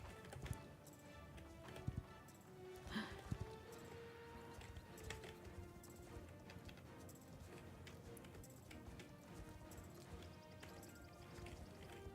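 Horse hooves in the Star Stable video game make a faint, steady clip-clop rhythm under game music and ambience, with a few louder hoof strikes.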